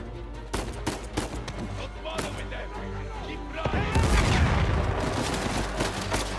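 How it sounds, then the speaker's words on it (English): Grenade launcher fire in the video game Uncharted 4, a dense barrage of loud booming blasts and rapid gunfire that swells into a heavy explosive rumble in the second half. "Looks like someone has a freaking grenade launcher."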